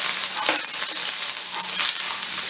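Red chilli powder and spices frying in a pan over a low gas flame for a quick Navratri fasting snack, a steady close sizzle with brief scraping stirs, no talk.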